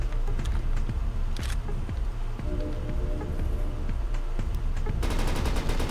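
Rapid gunfire from a weapon in the video game Cobalt, a dense run of sharp repeated shots bursting loudly throughout, with a quicker, brighter volley near the end.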